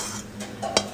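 Lightly salted fried mushroom is moved from one pot into another with a few short scrapes and one sharp metal clink near the end.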